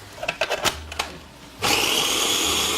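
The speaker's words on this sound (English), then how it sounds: "So you're going to cut up your onion and throw it in there and let it all chop fine." An electric food chopper working on onion and garlic for meatball gravy: a few clicks and short taps, then the motor whirs loudly and steadily to the end.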